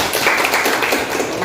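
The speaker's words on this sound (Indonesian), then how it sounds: "tapi tepuk tangan dulu" An audience at a nagari officials' oration contest breaks into a brief burst of clapping, a dense patter of many hands over about a second and a half.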